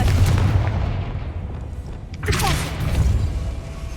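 A Confringo spell explosion in Hogwarts Legacy, a deep booming blast with rumbling low thuds across the moment, with a sharper impact burst partway through.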